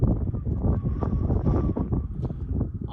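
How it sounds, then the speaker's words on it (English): Strong gusting wind buffets the microphone during a long-range racing quadcopter flight, a dense low roar with rumbling surges throughout. "Very, very windy, not fun"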